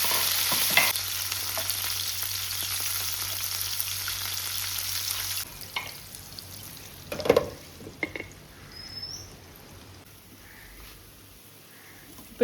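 Squid fries in a hot pan, a bright hissing sizzle for the first few seconds that then drops to a quieter crackle with scattered clicks and scrapes of stirring.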